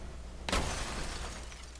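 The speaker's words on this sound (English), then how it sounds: "Let's wreck this into a tree." Car crashing into a tree in BeamNG.Drive, a single sharp shattering impact followed by a short crunching, rattling decay over a low steady engine rumble.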